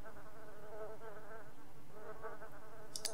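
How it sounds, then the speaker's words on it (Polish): Buzzing flies in The Sims 1, a wavering insect drone rising and falling in two swells, with a short bright click near the end. "Już nam muchy latają."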